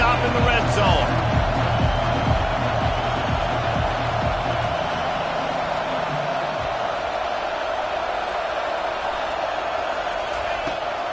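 Stadium crowd in a college football video game, Georgia Tech against USC, roars steadily through a red-zone defensive stand, a dense continuous wash of cheering with low rhythmic thumps early on and a commentator talking over it.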